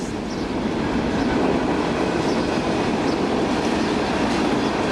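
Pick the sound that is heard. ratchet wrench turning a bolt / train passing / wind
train passing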